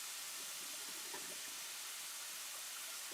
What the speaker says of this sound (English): here are my onions and my peppers, and they're just frying away really nicely at the moment